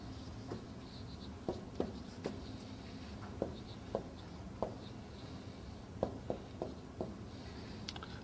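Examples are written on a board during an Arabic lesson, with a series of quiet, sharp taps and scratches spaced irregularly against a faint room hum and no talk.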